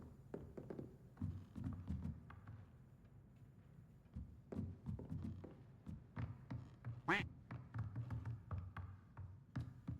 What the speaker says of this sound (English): What is quacking? I don't see any more ducks in here.